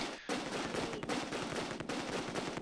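Close Combat II battle gunfire from the game, dense, continuous rattling bursts of rapid shots like machine-gun fire, steady and loud throughout after a brief gap at the start.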